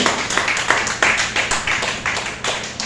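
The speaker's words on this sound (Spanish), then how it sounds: "Den un fuerte aplauso al Señor, hermano." Congregation at a church service clapping for the Lord in a strong, rhythmic unison beat, roughly three claps per second, loud and close, sustained throughout.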